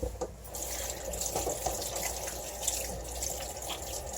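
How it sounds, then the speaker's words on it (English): Tap water runs into a sink, rinsing off a thick cold-process liquid soap, a steady close splashing flow with faint drips and no talking. "And it just washes off. So I'm just going to wash this off."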